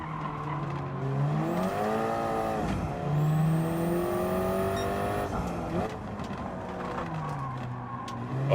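A race car engine in Gran Turismo 7 revving hard through the gears. The pitch climbs and drops repeatedly in sharp shifts, with a high whine and brief tire squeal, loud and close throughout.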